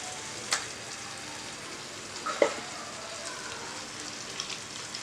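Mutton pieces go into a pan of jeera masala and are stirred, setting off a steady, close sizzle with a few sharp clinks and pops from the spoon and no one talking.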